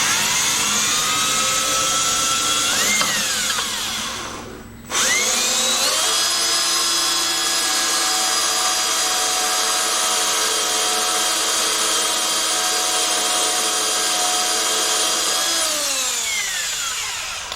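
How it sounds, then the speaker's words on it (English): Power drill boring into a part of a 1972 Homelite T10 tractor, a loud close whining drone that dips briefly, spins back up and holds steady before winding down near the end. "We need to drill where the mark is"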